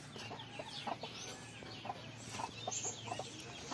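Domestic ducks kept on a farm give repeated short quacks and clucking calls, fairly close, over a steady outdoor background hum.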